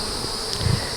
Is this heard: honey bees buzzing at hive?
yes